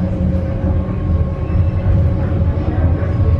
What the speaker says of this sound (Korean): 그 해변 열차.